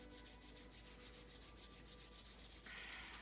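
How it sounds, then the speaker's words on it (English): Palms rubbing together during a qigong session, a steady rapid swishing friction repeating evenly and quietly throughout, with no talking. "rubbing our hands together"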